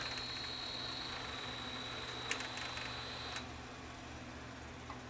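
A faulty Sony SVO-150 VHS VCR attempts to rewind a tape, giving a faint, steady mechanical whir with a thin whine and light ticking. The whine cuts off partway through, leaving a low hum in a quiet room.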